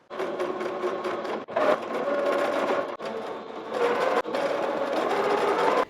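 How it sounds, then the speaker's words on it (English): A sewing machine stitches along a folded shirt sleeve for a pirate-style shirt, running in loud, steady mechanical bursts with two brief pauses, close up and alone. "I'm going to sew along that line."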